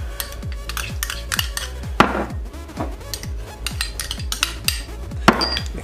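A spoon scrapes and knocks against a pot as vegetables with salt, pepper and spices are stirred, making a regular series of sharp clinks and scrapes, close and fairly quiet, with no talking.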